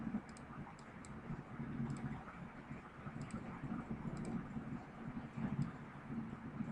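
A computer mouse clicks faintly while a circle is drawn in Adobe Illustrator, with sparse light clicks over a quiet background hum.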